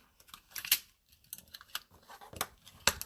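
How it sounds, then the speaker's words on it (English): A bone folder creases the folds of Stampin' Up cardstock jar treat holders, making a string of crisp, dry scraping and tapping strokes in irregular rhythm, close and fairly quiet with no voices. "So get them folded with your hands, then go through, fold it with your bone folder."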